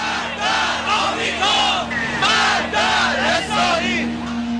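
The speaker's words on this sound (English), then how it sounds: "The streets of Tehran this morning were filled with crowds taking up the cry for Salman Rushdie's life." Large crowd in the streets of Tehran chanting in loud, surging rhythmic waves of massed shouting, with a steady low hum beneath.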